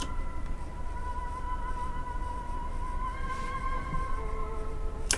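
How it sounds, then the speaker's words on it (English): A rendered piano loop plays reversed in FL Studio, with sustained tones swelling backward and a sharp reversed attack cutting in at the end, heard alone. "I just rendered it out, disc recording, and I reversed it."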